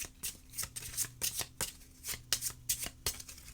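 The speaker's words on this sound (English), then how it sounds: "Yes, I am going to shuffle them." Londa tarot cards are shuffled by hand close up, a rapid series of crisp riffling and slapping bursts in uneven rhythm, with no talking.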